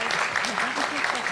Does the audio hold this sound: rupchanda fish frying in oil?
no